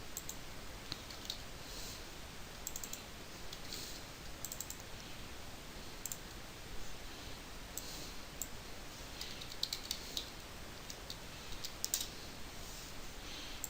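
Fast, light clicking of a computer keyboard, typed in quick irregular bursts over several seconds, quiet and close, with faint room noise and no voices.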